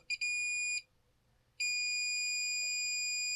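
A multimeter on continuity test emits a clean, high electronic tone, with a quick double chirp then a steady beep, a short silence, and a second sustained beep, close and alone.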